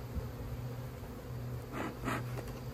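Honey bees buzz softly around hive frames, a faint, continuous hum with a few closer passes swelling briefly near the end.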